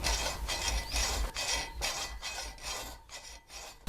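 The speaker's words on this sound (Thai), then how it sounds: "เมื่อเราหาตำแหน่งได้แล้วเราก็จะใช้เลื่อยตัดเหล็กเนี่ยตัดไปเลย" A hacksaw rasps back and forth through a metal fan grille in quick, even strokes, close and steady, with faint metallic clinks near the end.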